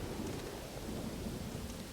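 Steady, dense rain with low rumbling thunder in the video game Pathfinder: Wrath of the Righteous, a continuous loud wash of noise with no talking.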